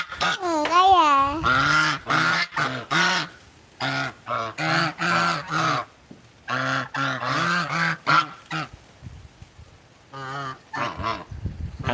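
Loud, close goose honks come in a rapid series of harsh calls that break off briefly and then return in irregular bursts.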